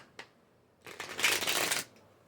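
A new, stiff tarot deck being shuffled: a single faint card tap, then a close, crisp riffle of cards lasting about a second, with no talking.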